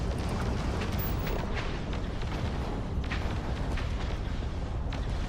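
Missiles exploding in the space game Starfield, a dense, loud rumbling barrage of blasts and booms that continues without pause.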